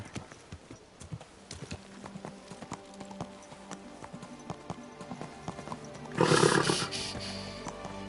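Steady clip-clop of horse hooves trotting along in the video game Kingdom Come: Deliverance II, with a loud neigh or snort rising briefly near the end.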